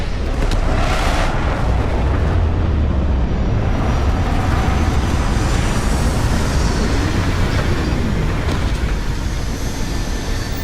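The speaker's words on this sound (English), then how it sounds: "Landing struts primed. Retros firing." Spaceship retro thrusters firing during a landing in Starfield, a loud continuous rumbling roar that holds steady, with bursts of hiss swelling over it.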